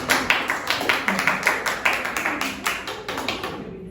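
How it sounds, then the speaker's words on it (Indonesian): A classroom group applauds together in a brisk, steady burst of clapping lasting a few seconds, close and fairly loud, fading slightly toward the end. "Beri tepuk tangan untuk kita semua"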